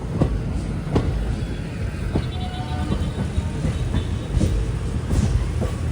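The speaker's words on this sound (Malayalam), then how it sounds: "സാഗര എന്നൊരു സ്ഥലത്തേക്ക് ഇതാ ട്രെയിൻ എത്തുകയാണ്" A passenger train rumbles steadily along the tracks between Talguppa and Shivamogga in Karnataka, with repeated clickety-clack beats from the wheels over rail joints, close and continuous.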